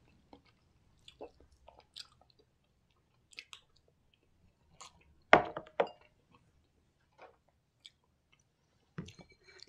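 Soft, sporadic chewing and squishy mouth noises of someone eating mapo tofu, with a few louder bites and clinks, close up, with no one talking.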